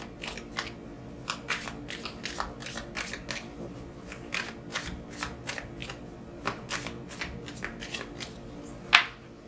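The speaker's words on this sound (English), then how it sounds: "Let's get some Moonology cards for Sagittarius." Moonology oracle cards shuffled by hand make a steady run of soft, close slaps and slides that repeat throughout, finishing with one sharper snap.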